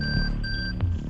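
An electronic gadget, the Banshee in Rainbow Six Siege, hums with steady high tones and a low drone, a brief synthetic sound with a short blip near the end.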